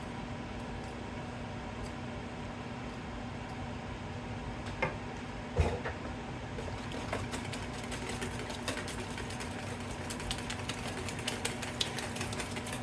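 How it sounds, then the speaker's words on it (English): A whisk beats thin, watery popover batter in a bowl, producing a steady, rapid ticking and clicking that grows denser in the second half over a constant background hum. "Okay, I am going to use a whisk in here."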